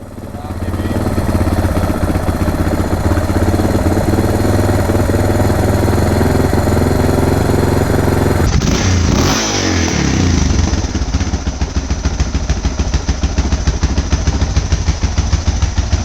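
A Suzuki DR650 single-cylinder motorcycle engine runs loud and close after a carburetor adjustment, first a steady rumbling idle, then a rising rev that settles into a faster, rattling, choppy run.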